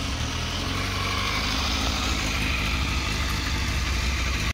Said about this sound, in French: Elle démarre au quart de tour.